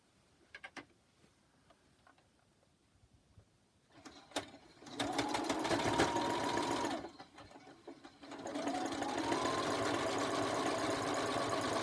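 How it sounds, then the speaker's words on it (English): A sewing machine stitches quilt block seams in two steady bursts of rapid mechanical whirring, close and loud, with a brief pause between for pin removal and a few soft clicks before the stitching starts. "Sew to here, stop again, remove the pin, align, and sew to the end."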